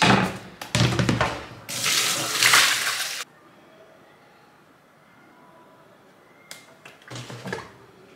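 Cooked spaghetti is drained into a sieve, with bursts of rushing, splashing water and running tap flow close by, separated by a quiet stretch before more splashing.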